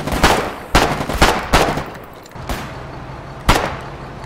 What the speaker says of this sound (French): Il y a de l'artillerie derrière